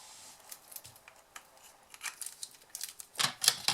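Scissors snipping paper wrapper for an Aero chocolate wrap, a quick run of light close cuts, sparse at first and then faster and louder in the final second.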